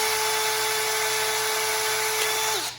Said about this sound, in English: This is a 1/16 inch drill bit that I'm using